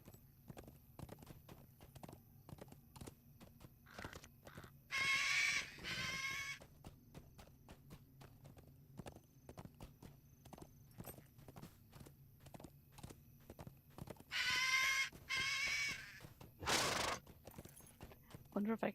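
Steady clip-clop of a war steed's hooves in the video game Legacy of Morgoth, a quick regular trot running throughout at moderate volume, broken by a few louder rushing bursts and a sharp whinny-like cry.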